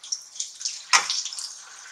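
Water is poured into a pan of fish curry (machli ka salan), a brief close splash and gurgle with light dripping and trickling before and after.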